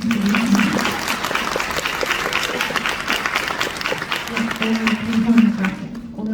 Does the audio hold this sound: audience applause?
yes